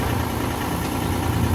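An engine-driven welding machine runs at a steady idle, a loud, even, continuous engine drone close by with no talk.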